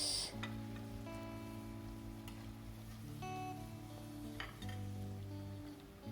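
Onions frying in a pan, a quiet steady sizzle with occasional clinks of a utensil against the pan and a faint background hum.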